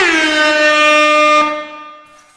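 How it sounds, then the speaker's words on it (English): A loud air horn from the video game Tower Inc blasts once for about a second and a half, a bright steady tone that then fades out. "That's a very nice air horn noise."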